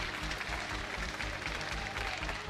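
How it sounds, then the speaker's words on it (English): An energetic crowd applauds at a League of Legends EU LCS Spring 2018 esports match, a dense continuous wash of clapping and cheering filling the arena, steady and loud. "We have a very energetic crowd today"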